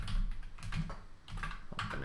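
Typing on a computer keyboard while setting up a log entity in a subgraph schema, a steady run of clustered keystrokes at close range with no talk.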